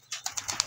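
An Oriental pigeon lands with a quick flurry of wingbeats: four or five close, soft flaps in under a second, heard near and on their own.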